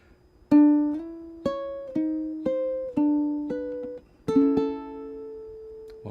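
A plucked ukulele riff of single notes, several with audible slides between pitches, ending on a strummed chord; clear and close, with no talking.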